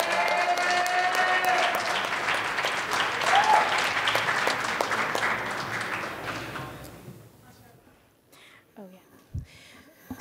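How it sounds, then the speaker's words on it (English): Audience applause at an open mic night, dense clapping that carries for several seconds, then fades out, leaving a few faint scattered claps and light room noise. "Another round of applause for Stephanie Jerome."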